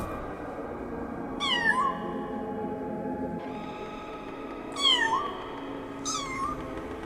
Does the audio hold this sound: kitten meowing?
yes